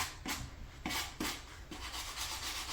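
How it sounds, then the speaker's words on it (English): Sandpaper rubs over a mini craft vase to give it a distressed look, making soft, close scratchy strokes in a loose repeating rhythm of several passes. "I want this distressed look, so I'm using sandpaper"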